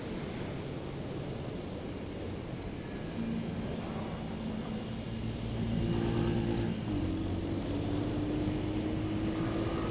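Royal Enfield Hunter 350 motorcycle riding along with steady engine drone and wind rush, the engine note stepping up in pitch and loudness partway through as gears change, close and continuous.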